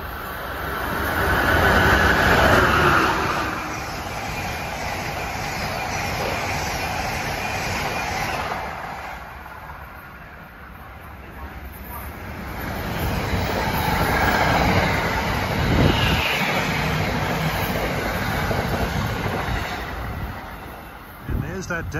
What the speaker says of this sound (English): here comes Amtrak 176 from Washington to Boston